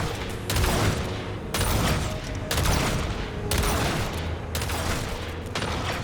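Bursts of heavy gunfire ring out in the Destiny 2 video game, several loud volleys in quick succession, each separated by brief gaps, with a faint tonal hum running underneath.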